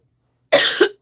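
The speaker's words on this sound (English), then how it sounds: "I have a cough too" A single harsh cough, close and loud, a quick two-part burst that ends in a throat-clearing rasp, with no talking.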